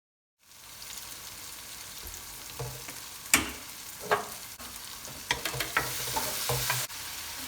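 Two medium-sized chopped tomatoes frying with onions in a pan for spicy chicken fried rice, a soft steady sizzle broken by sharp clicks and scrapes of a spoon stirring against the pan; no talking.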